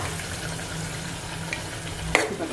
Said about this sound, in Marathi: अच्छा, ही कांदा टोमॅटोची पण ग्रेव्ही टाकून घेऊया.